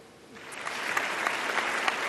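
Studio audience on an Iftar transmission talk show applauding, the clapping swelling from a lull into a dense, steady wash of many hands, close and bright.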